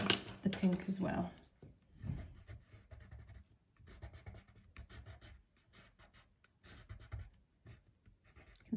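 A coloured pencil pressed hard on paper while drawing cherry blossom, with a burst of dense scratching strokes at the start followed by quieter intermittent scribbling and light rubbing.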